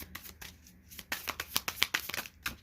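Tarot cards riffled and shuffled by hand, then drawn, a quick run of crisp, close flicking snaps and soft slides, alone without talk.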